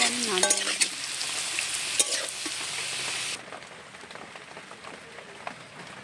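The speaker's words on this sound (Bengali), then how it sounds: "আলুগুলো ভাজা হয়ে গেছে" Potatoes fry in hot oil in a pan, a close crackling sizzle with a few stirring clinks near the start, later settling to a quieter steady fizz.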